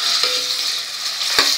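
Ground masala paste of roasted garlic cloves and coriander, made without water, sizzles steadily as it is sautéed in a hot pan for a mixed vegetable dish, with two brief scraping stirs of the spoon over the frying hiss.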